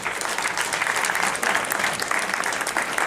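Audience at a job-search event applauding steadily for about three seconds, a dense, even wash of many hands clapping throughout.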